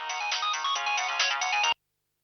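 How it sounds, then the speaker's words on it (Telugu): An incoming-call phone ringtone plays loud and close for under two seconds, a dense bright electronic melody that cuts off abruptly, followed by silence. "ఆర్య ఫోన్ చేస్తున్నాడేంటి?"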